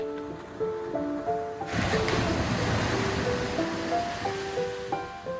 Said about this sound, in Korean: 파도 소리가 가까이서 들리고